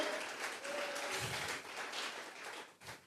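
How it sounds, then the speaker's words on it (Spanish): Church congregation clapping during a Spanish-language Tuesday Bible study service, a steady wash of hand claps that fills the room for a few seconds before fading. "Vamos a regalarle ofrenda de palmas al Dios de la gloria"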